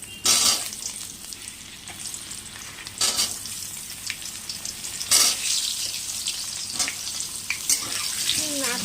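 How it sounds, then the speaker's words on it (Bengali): Potatoes coated in salt and turmeric sizzle in hot oil in a kadai, a loud steady frying hiss with bursts of sputtering as pieces go in, no voices. "তারপরে আস্তে আস্তে কড়াইতে আলুগুলো দেব"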